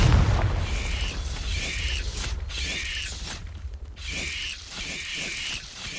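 Repeated Confringo explosion spells in Hogwarts Legacy burst over a dense layer of game effects and mechanical clanking, several bright blasts in quick succession.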